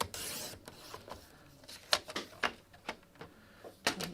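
A paper trimmer slices a 7x7 card down to 5 inches, a scraping rasp followed by a string of sharp clicks and taps from the blade and card, close and fairly quiet, with no voices.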